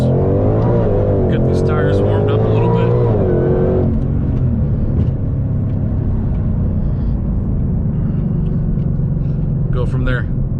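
A 2020 Shelby GT500 cruises on country roads with a low, steady engine rumble and road roar heard from inside the cabin, the engine note rising briefly early on.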